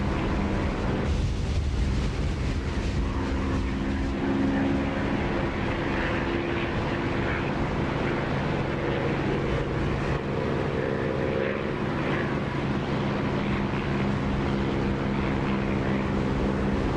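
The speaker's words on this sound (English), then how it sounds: "as you get close to the runway, the volume of the engine picks up" Steady, loud aircraft engine drone in the DCS flight simulator game, close to the runway, a continuous roar with a propeller-like hum that holds throughout with no voices.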